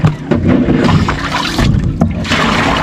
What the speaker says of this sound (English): and then tip the bucket out